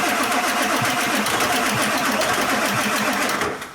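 A Ford 7.3 Powerstroke diesel engine in an old auction truck with weak glow plugs cranks steadily, the starter churning in a fast, even rhythm before it cuts off near the end.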